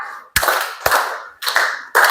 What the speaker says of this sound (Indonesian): 2 kali tepuk 3.